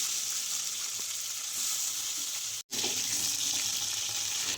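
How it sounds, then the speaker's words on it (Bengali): More river baim fish pieces sizzle in hot oil in a kadai, a dense continuous crackling hiss held at an even level throughout, briefly dropping out for an instant before resuming just as strongly. "বাকি মাছের পিসগুলো আবার কড়াইতে দিয়ে দিলাম"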